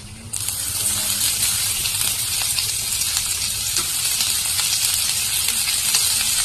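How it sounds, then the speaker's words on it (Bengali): Chopped onion hits a pan of already fried garlic and a loud, steady sizzle erupts and holds, with faint stirring scrapes underneath while a taro-stolon dish cooks. "এখন আমি তার সাথে দিয়ে দিচ্ছি কেটে রাখা পেঁয়াজ"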